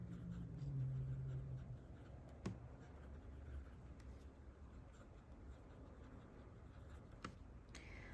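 A fountain pen writing on paper with shimmering ink, heard as a faint, quiet scratch of nib strokes against a soft room background, with a couple of small taps.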